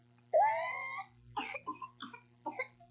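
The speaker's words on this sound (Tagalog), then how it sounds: "Baka pertussis o whooping cough na yan." A child's whooping cough in a health announcement: a long, drawn-out whooping intake of breath, then a string of short, harsh coughs in bursts, close and clear.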